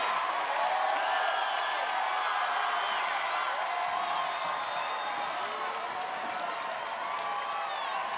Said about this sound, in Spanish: Un aplauso para ella, chicos.